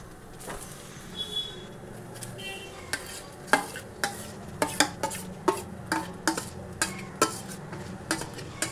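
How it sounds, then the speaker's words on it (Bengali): Ridge gourd paste fries and sizzles in a pan for a Bengali ridge gourd mash, with a steady hiss under a run of sharp, close scrapes and clinks of a utensil against the pan, coming quickly and regularly. "এবার কিন্তু আমি ঝিঙের পেস্টটা এতে ঢেলে দিচ্ছি"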